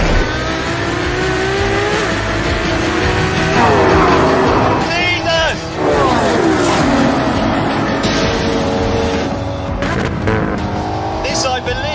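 A 950 horsepower hybrid car accelerates hard, its engine note climbing steadily and loudly through the gears with brief shifts, while someone talks over it throughout.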